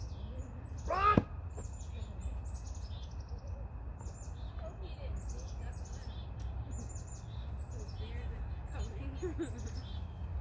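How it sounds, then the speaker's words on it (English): A small bird gives a quick rising chirp near a nature trail by the Humber River, then faint, scattered tweets follow over a low steady outdoor rumble. "I just love the sound of that bird chirping."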